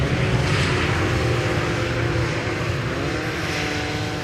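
An airliner lands on the Polderbaan runway 18R at Schiphol airport, producing a loud, steady broadband jet roar that sustains without a break and eases off only slightly toward the end.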